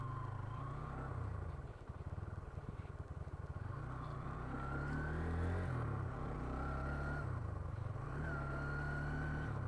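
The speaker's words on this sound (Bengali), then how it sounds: "দেখি একটু ভেজা টেজা রাস্তায় ব্রেকিং বাইকটা কিরকম" A Hero Xtreme 160R 4V dual-channel ABS motorcycle rides along a wet road, its engine a steady loud drone with shifting revs and a brief dip partway through, heard alone without talk.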